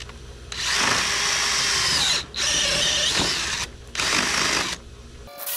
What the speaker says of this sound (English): so I borrowed my husband's drill